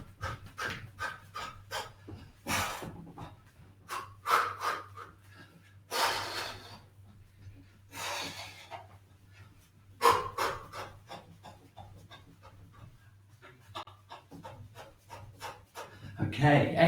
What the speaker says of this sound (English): Let's just jump up and down a few times